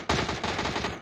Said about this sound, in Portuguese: Só deixa eu dar uns tiros de AK aqui.